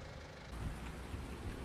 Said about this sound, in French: mais il pleut, bordel.